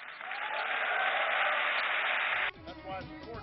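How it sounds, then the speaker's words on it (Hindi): An auditorium audience applauds Obama's speech with loud, dense, sustained clapping that fills the first two and a half seconds, then cuts off abruptly as a voice speaks. "ऑडिटोरियम में ओबामा के भाषण पर तालियां बज रही थी"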